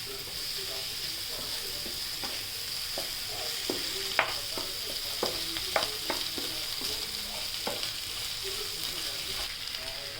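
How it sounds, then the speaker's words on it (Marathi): Potatoes frying in a pan for dry aloo palak, giving a steady soft sizzle with scattered crackles and pops throughout, close by and moderately loud, with no talking. "बटाटे टाकून घ्या. त्याच्यावर एक झाकण ठेवा."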